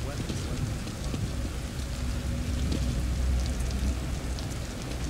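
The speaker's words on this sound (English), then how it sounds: "Rain is gonna wash away any evidence." Rain falls steadily in The Evil Within, a dense and even hiss of drops on surfaces, with low rumbling underneath and no talking.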